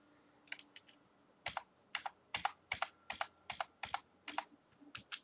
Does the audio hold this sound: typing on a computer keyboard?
yes